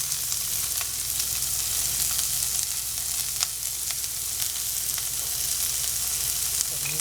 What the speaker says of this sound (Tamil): வெங்காயத்தை போட்டு வெங்காயம் நம்ம வதங்கட்டும். இதில் உப்பு போட்டுருவோம்.